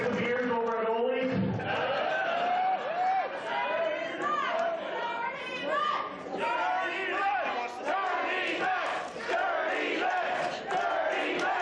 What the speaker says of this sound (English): Crowd really showing their appreciation here.